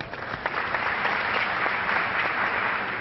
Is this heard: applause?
yes